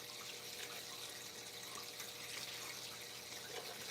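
Tap water runs in a steady, unbroken rush while a gold pan is rinsed, with a hissing, splashing texture and no voices.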